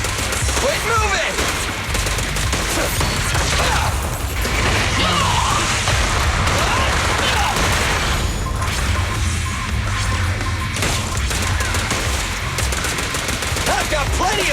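Continuous gunfire and crashing action in the video game Zenless Zone Zero, forming a loud, dense barrage of rapid shots and impacts that is mixed with brief game voices.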